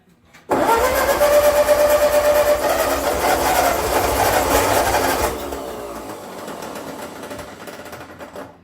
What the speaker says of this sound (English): Let's see if she'll crank up.